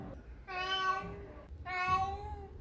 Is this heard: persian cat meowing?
yes